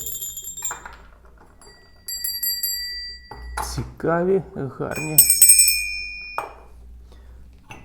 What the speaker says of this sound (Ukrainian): Це у нас дзвоники.